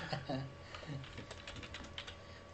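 Keys clack on a computer keyboard in quick irregular taps, close and fairly quiet, with a voice talking over part of it.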